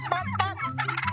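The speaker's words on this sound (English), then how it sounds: "the feathered trio charged at him multiple times, while expressing their disapproval with a chorus of resounding gobbles." Several turkeys gobble and cluck in quick, close, loud bursts, a rapid chorus of warbling calls from a feathered trio confronting a sheriff's deputy.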